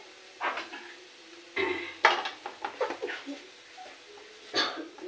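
A spatula scraping and clattering in an empty hot kadai while turmeric is stirred, giving irregular metallic scrapes and knocks, close and fairly soft, with no voices.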